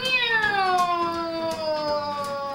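A drawn-out, high-pitched meow with clear harmonics that slowly falls in pitch, loud and close, with no talking.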